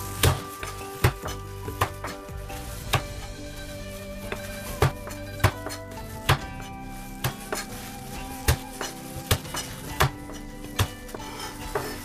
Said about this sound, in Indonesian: Kemudian saya cincang ya teman-teman.